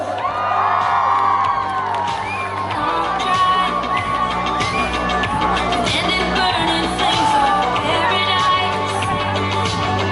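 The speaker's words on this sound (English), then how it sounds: "Can we have a big round of applause?" A crowd at the Miss and Mr. Ribhoi College 2024 pageant cheers, whoops and shouts continuously, loud and close throughout, with voices mixing into the roar and some clapping likely underneath.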